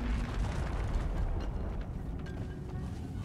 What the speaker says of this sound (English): now I'm gonna shoot the rocks